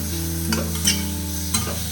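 Two chopped medium tomatoes sauté in a pan for a cowpea masala. A close, steady sizzle sits over a low hum, with a few quick spatula scrapes.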